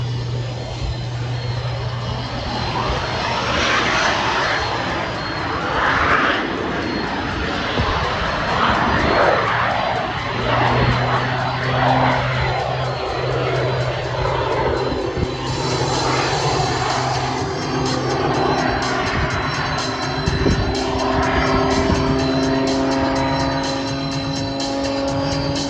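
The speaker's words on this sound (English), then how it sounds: "his one-off design Pitts S2 based aircraft. An uprated Lycoming piston engine, and most importantly, 2 Lynx turbojets. He's starting his takeoff roll" A one-off Pitts S2-based aerobatic airplane with an uprated Lycoming piston engine and two Lynx turbojets roars loudly and continuously at an air show, a dense engine drone mixed with turbine rush that swells as it passes.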